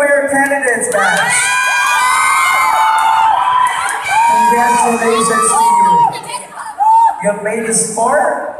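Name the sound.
crowd cheering for pageant candidates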